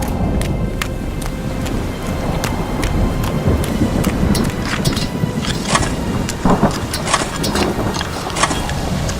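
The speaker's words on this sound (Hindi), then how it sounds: "बारिश शुरू हो गई।" In a Hindi cartoon about a flood, heavy rain pours steadily with deep thunder rumbling beneath and sharp drop-like ticks scattered on top, loud and continuous with no voices.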